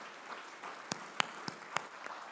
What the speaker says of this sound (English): You deserve a round of applause from our guests here today.